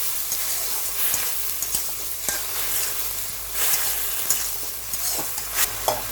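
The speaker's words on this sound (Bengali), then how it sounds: "এবার একটু ভালো করে ভেজে নেব মধ্যে আমরা কিছু আলু কুচিয়ে রেখেছিলাম সেটা দিয়ে দিলাম" Chopped potatoes with whole green chilies and a bay leaf frying in hot oil, a continuous close sizzle and hiss with intermittent stirring scrapes.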